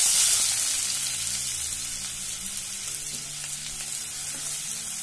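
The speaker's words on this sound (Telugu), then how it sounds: "ఉల్లిపాయలు బ్రౌన్ కలర్ వచ్చే వరకు వేయించుకోవాలి" Sliced onions with cumin and fenugreek seeds frying in oil in a pan, a steady close sizzle that starts loudest and settles slightly, with faint scraping of a utensil now and then and no talk.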